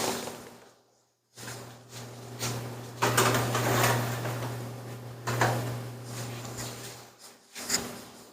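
Oven door being opened and handled to put stuffed buns in, a series of clattering, sliding knocks and clunks over a steady appliance hum, with a brief quiet gap near the start.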